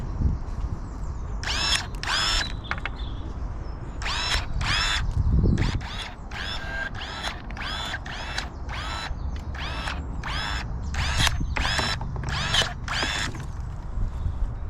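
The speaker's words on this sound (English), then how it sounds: "So these electric pruning shears really do make light work of any pruning." Electric pruning shears snipping suckers off a plant, a series of short whirring motor bursts in quick succession, loud and close, with small pauses between cuts.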